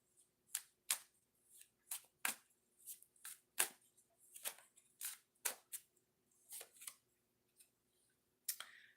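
An oracle card deck is shuffled by hand: a string of crisp, close riffling snaps and flicks in irregular bursts, quiet and alone with no talk.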